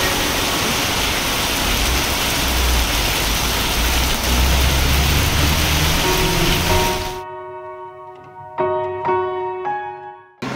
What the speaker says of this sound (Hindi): आज दिन भर बारिश ज़्यादा नहीं हुई तो उसका बदला निकल रही है